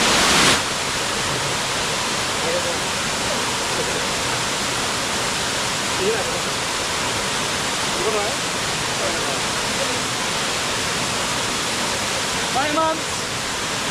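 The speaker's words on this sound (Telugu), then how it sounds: "ఫైనల్గా మేమైతే మినుమలూరు వాటర్ ఫాల్కి అయితే వచ్చేసాం" The small Minumuluru waterfall near Paderu makes a steady, close, broadband rush that fills the whole stretch. Faint voices can be heard beneath the roar.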